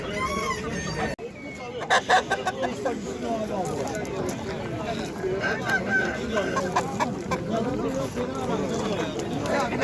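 Dense clucking and squawking from many chickens fills the air at a chicken and rooster market in İzmir, with occasional rooster calls and people talking amid a busy, bustling crowd.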